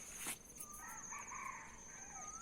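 A wild junglefowl rooster crows once, a drawn-out call at moderate distance, over a steady high insect whine and faint outdoor ambience.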